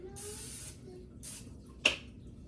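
Canola oil cooking spray hisses onto a pan in three separate bursts: a long spray, then a shorter one, then a sharp brief puff, all close and fairly loud against quiet kitchen background.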